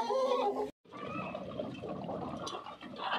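Hens cluck and murmur inside a closed poultry shed shut against winter cold, a steady, dense flock chatter that runs on with a brief gap near the start.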